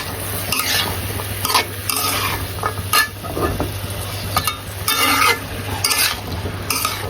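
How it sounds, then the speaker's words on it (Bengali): Potatoes and spring onion stalks sizzle in a frying pan as a spoon stirs them, scraping and clinking at irregular intervals over a steady low hum, close and fairly loud. "আলু দিয়ে দিলাম। ভালো করে কষাবো, সবগুলো দিয়ে দিলাম।"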